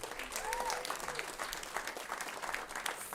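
Faint audience applause at a Climate Week NYC chef conversation, a steady soft patter of clapping lasting a few seconds, heard from a distance and with a stray vocal whoop.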